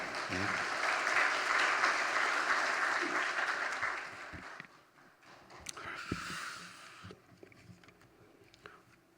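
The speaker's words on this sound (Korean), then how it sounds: "우리 박수로 목사님을 환영하겠습니다." A church congregation applauds to welcome the pastor at a Sunday worship service, with dense clapping filling the first few seconds before it thins out and fades into quieter room sounds.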